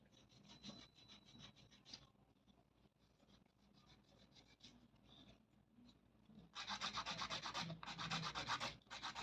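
Acrylic nail extensions are buffed with quick, dry, scratchy strokes, faint and rhythmic at first, then becoming louder and more vigorous in two bursts toward the end.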